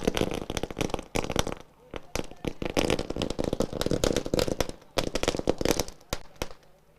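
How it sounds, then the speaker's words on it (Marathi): Firecrackers burst at a cricket tournament celebration as dense volleys of sharp cracks and pops rattle on almost continuously, loud and close. "फटाक्यांची आतिषबाजी केली जाते"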